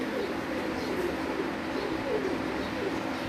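Pigeons bred for flying coo on a rooftop loft, soft repeated low calls over a steady background hiss, fairly quiet throughout.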